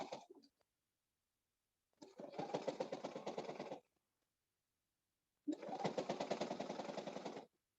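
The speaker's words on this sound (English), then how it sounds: "when you're sewing up your bag" A sewing machine stitching the seams of a handmade drum bag with an Indigenous design runs in two steady bursts of rapid, even stitching, each about two seconds long, with a brief tail at the start and silence between.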